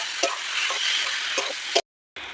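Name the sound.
stirring boiled dal into fried tarka in pan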